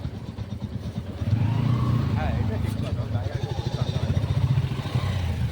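Vehicles, likely motorcycles, are being parked at the Kanak Durga temple in Jhargram, giving a steady, fairly close engine rumble with a rattly idle. Voices are heard alongside.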